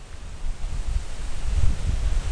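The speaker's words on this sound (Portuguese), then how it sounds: "Puta ventão" Strong wind on the summit of Pico da Tijuca ahead of an approaching cold front buffets the microphone in a continuous low roar with gusty swells and no voices.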